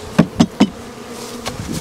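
Honey bees being moved from a nuc into a full hive, heard as a few short, close buzzing bursts in quick succession, then softer, fainter buzzing afterward.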